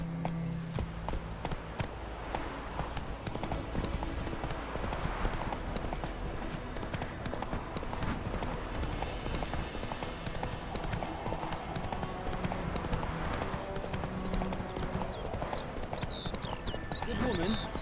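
Horse hooves clip-clop steadily as a rider travels along a road in The Witcher 3, a continuous rhythmic patter under game music and ambience, with a voice speaking briefly and urging the horse on.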